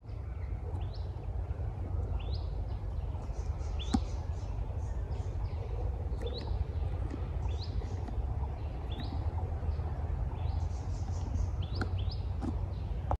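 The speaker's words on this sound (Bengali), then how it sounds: "পাখির ডাক, ঝিঝি পোকার ডাক," Birds call in a casuarina forest near Dublagadi sea beach, with scattered short chirps and tweets repeating faintly over a steady low background hum in an otherwise quiet setting.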